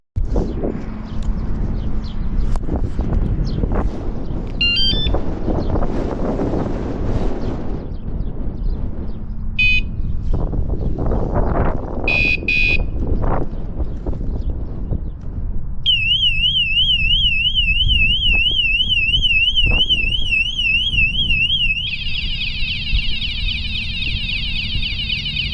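A loud motorcycle alarm system wails and warbles in cycling siren patterns, switching tones, after a stretch of rumbling background noise.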